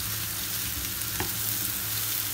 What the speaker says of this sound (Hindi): ये देखो इसको अच्छे से हमको फ्राई करना है।